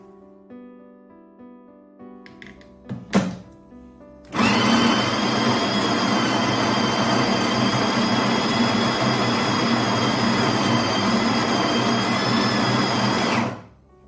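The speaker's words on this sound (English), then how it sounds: "now that we've done the grinding" A Stirling premium espresso machine grinds coffee beans in its built-in grinder. A few clicks come first, then a loud, steady, high-pitched whirring runs for about nine seconds and stops abruptly.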